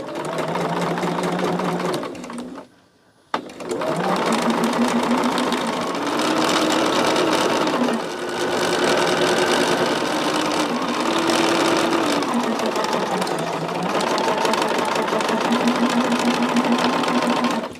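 Sewing machine running loud and steady while stitching pumpkin quilt block seams, a humming motor whine that pauses once briefly near the start, then carries on with slight shifts in speed, with no speech.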